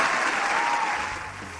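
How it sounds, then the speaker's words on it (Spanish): A short burst of studio audience applause on a Spanish-language talk show, loud at first and then tapering off as the clapping dies down. "Fuerte el aplauso, por favor"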